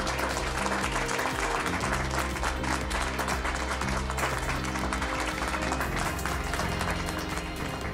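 Audience applause welcoming Jasmin Roy, president of the Fondation Jasmin Roy, onto a TV talk show set about cyberbullying; dense, sustained clapping from a studio crowd runs throughout under a steady music bed.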